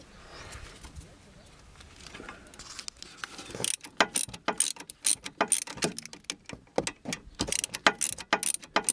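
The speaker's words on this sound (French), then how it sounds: "Je finis de dévisser celle du haut." Ratcheting wrench clicks and metallic clatter while unscrewing the upper brake caliper guide bolt on a Renault Mégane 2 during a front brake pad change, starting quiet then becoming a loud, irregular burst of sharp ticks and clacks close by.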